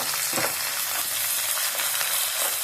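Onion, chilli and curry leaves sautéing together in a pan for mutton liver gravy: a loud, close, continuous sizzle with soft scraping stirs at intervals, with no voices.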